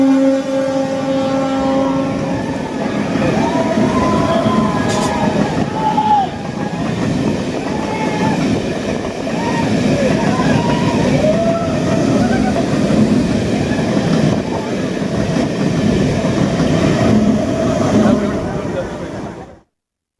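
A train passes close by in Odisha with a loud, continuous rolling rumble and clatter of wagons. Horn-like tones sound near the start, and the noise holds steady before cutting off at the end.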